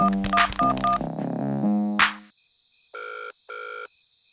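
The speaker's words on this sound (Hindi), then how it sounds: "उसका तो फोन अंदर बज रहा है" A mobile phone rings behind the door of a locked room, a short burst of electronic ringtone notes followed by two muffled tonal beeps, heard alone without talk.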